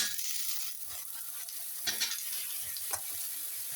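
Vegetables including eggplant, pumpkin and potato frying in fish oil with whole cumin and onion, a continuous bright sizzle with a few soft stirring scrapes.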